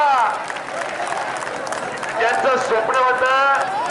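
Applause and shouting from a crowd at a wrestling bout of the Maharashtra Kesari tournament, Sikandar Shaikh against Praveen Kumar, a continuous dense clapping wash that swells louder in the second half, with voices mixed in.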